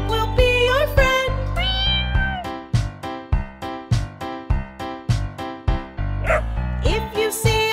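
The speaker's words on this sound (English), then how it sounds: "If you see a cat and you want to be its friend, say meow meow, and the cat will understand." A cat meows repeatedly in an evenly spaced run of loud, close, drawn-out calls within a bouncy children's farm-animal song, with music and singing around them.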